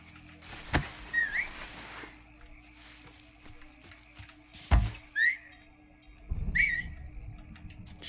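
A character in the video game Mafia 3 whistles during a nighttime camp raid, three short rising whistles spaced a few seconds apart over a quiet backdrop, punctuated by sharp thuds.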